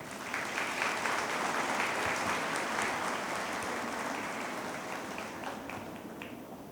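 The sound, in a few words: audience applause at a general assembly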